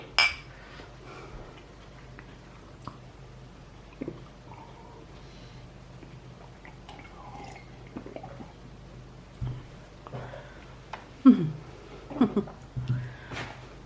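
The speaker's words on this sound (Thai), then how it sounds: "ไปเก็บจานให้แม่" Plates and dishes are gathered up after a meal of som tam and fried chicken, with scattered clinks and clatters of tableware near and intermittent, and people talking softly in between.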